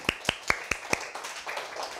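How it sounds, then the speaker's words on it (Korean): Hands clap in five sharp, evenly spaced claps, followed by a softer, scattered patter of applause from a small audience in a classroom lecture. "우리 다 같이 손뼉 한번 쳐줍시다"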